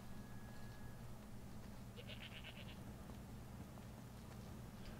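Goats bleat in the Skyrim Special Edition video game, one short quavering cry in the middle and a faint hint near the start, over a constant low background drone.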